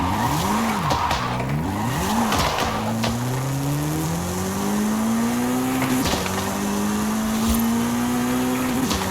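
Engine of a restored police car in a video game revs and sweeps up and down in pitch, then settles into a long rising drone as it accelerates, loud and continuous with no talk.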